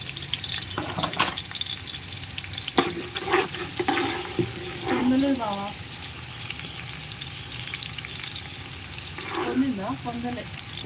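Onions sizzle steadily in a hot pan while cooking country chicken curry, with brief voices speaking over the frying now and then.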